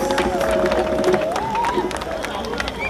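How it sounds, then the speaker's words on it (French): Audience applauding and cheering for dancers at a live show, a brief dense burst of clapping and crowd noise with a voice calling over it. "J'aimerais qu'on applaudisse encore très fort pour les dames."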